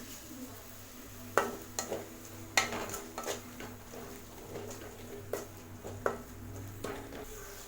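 A large tomato with a little salt being sautéed in a pan for vermicelli biryani: faint sizzling under repeated sharp clinks and scrapes of a spoon against the pan, spaced irregularly over several seconds.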